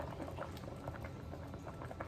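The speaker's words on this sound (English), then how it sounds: "It's boiling nice" Homemade strawberry jam with reduced sugar bubbles in a pot on a stove at a low setting, a dense continuous gurgle and pop of boiling that stays steady throughout.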